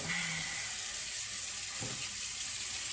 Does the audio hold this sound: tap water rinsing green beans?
yes